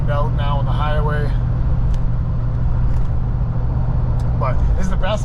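Ford 6.4 diesel pickup truck cruising on the highway, a loud steady low engine drone and road rumble from inside the cab, with someone talking over it at the start and end.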